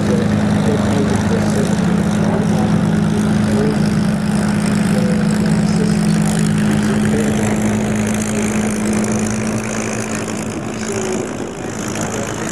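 Supermarine Spitfire Mark V aircraft powered by a 27-litre Merlin engine at the Duxford air show, giving a loud, steady droning propeller hum that holds for the whole stretch with no talk.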